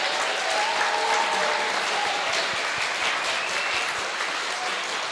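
A crowd applauds tutors at a middle school graduation, dense sustained clapping filling a large room, even in loudness from start to finish with no talk over it.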